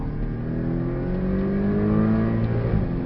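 A Porsche Cayman 718 S accelerates hard on the Portimao race track, its engine note climbing steadily in pitch with strong, continuous harmonic whine, loud and close throughout with no talk.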